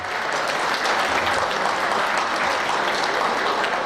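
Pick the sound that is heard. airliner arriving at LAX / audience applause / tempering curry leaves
audience applause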